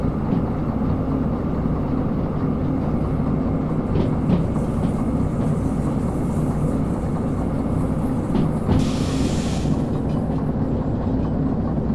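A train in the Derail Valley simulator coasts downhill on rails with a continuous low rumble and rolling clatter and a brief hiss partway through, and no one talks over it.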